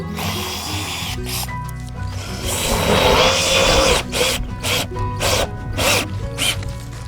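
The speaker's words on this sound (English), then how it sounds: "we're also screwing into a piece of wood we screwed onto the edge of the roof" A power drill drives screws with small rubber washers into a wooden board fixed to a roof edge, giving several loud whirring bursts with short pauses between them, close to the listener.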